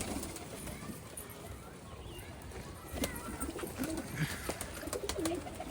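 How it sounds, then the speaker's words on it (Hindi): Pigeons cooing outdoors, soft repeated coos rising in the second half over a faint background murmur, with a few sharp clicks. "तो चलते लॉट से बाहर अपनी कबूतरों के पास।"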